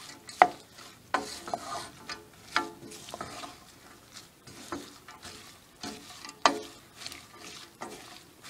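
Kimchi vegetables—coriander leaves, carrots and radish—are tossed and mixed by hand in a bowl, giving soft irregular rustles and wet squelches with occasional sharper knocks, fairly quiet and close.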